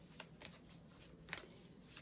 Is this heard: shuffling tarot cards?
yes